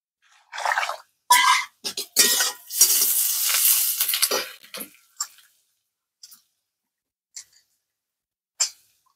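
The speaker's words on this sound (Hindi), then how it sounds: "एक पानी से और धो रही है" Pieces of jackfruit are rinsed in a vessel of water, giving a few close, splashy bursts of sloshing, then sparse drips and small splashes separated by silence.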